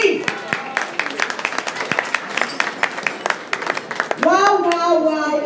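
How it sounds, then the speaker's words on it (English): Audience applause at a bookstore book launch, many hands clapping briskly and close, with a voice rising over the clapping near the end. "Give yourselves a round of applause, please."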